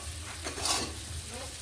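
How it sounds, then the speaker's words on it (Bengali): A spoon stirs mixed vegetables with black pepper powder in a hot pan, giving a short scraping swirl over a soft, steady sizzle, close and with no voices. "গোলমরিচের গুঁড়ো দিয়ে বেশ ভালোভাবে মিশিয়ে নিচ্ছি। এইভাবে নেড়ে নিচ্ছি।"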